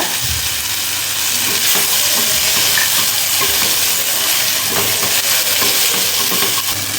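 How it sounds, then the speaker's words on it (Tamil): A cup of okra fries in a pan with its tempering of spices, giving a loud, dense, continuous sizzle and hiss alongside steady stirring scrapes, close and with nobody talking. "ஒரு கப் வெண்டைக்காய் உள்ளே சேர்த்துடலாம் இப்போ அதை சேர்த்து தாளித்ததோடு ஒரு தடவை கலந்து விட்டுக்கோங்க"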